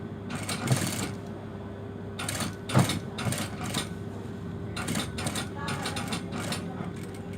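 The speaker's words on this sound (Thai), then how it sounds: "เวลาเราเย็บรอยต่อนะคะ เราเย็บเลยมาตรงมาเลยนะคะ" A sewing machine stitching straight along a trouser hem seam, its mechanical chatter coming in several short and longer runs with pauses between.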